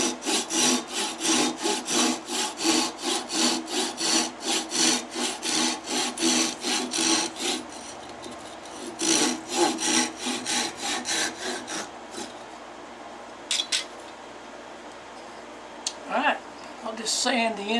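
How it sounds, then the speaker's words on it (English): Sandpaper rubbed over the ends of a wooden drink muddler in quick rhythmic strokes, loud and close, then sparser scrapes and pauses toward the end. "Sand the ends of it up."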